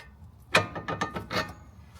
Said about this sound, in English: So just loosen the castle nut off the bottom, and then the arm should then drop out.